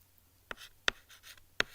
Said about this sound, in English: Let me write it again.